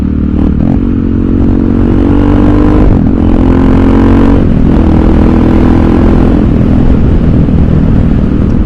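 Motorcycle engine running loud and steady in top gear, with a clutchless upshift as the throttle is eased under downward pressure on the shift lever, and a brief dip and change in engine note around the gear change.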